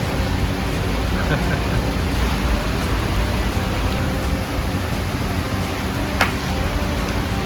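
Steady rain pours down over a fishing pond, a broad continuous hiss with no talk and one brief sharp click near the end.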